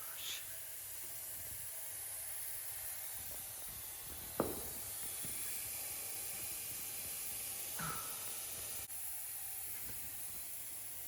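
Steam hisses steadily from a damaged Dodge Durango after it struck a deer, a continuous broadband rush with a few sharper bursts, heard at night outdoors under occasional faint voices.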